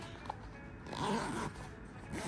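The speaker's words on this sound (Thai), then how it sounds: "มีที่เกี่ยวในการเปิดซิปนะคะ นี่เลย" A Peak Design Outdoor Sling 2L bag's durable zipper is pulled open, a continuous close rasping zip lasting about two seconds, with a louder stretch in the middle and no speech.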